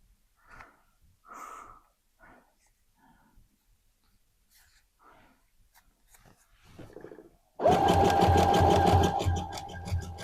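A sewing machine runs a lock stitch along a seam in stretchy leggings fabric, a loud steady whir starting after a few quiet rustles and handling sounds.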